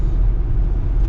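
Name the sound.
1972 C20 truck 350 engine running with exhaust leak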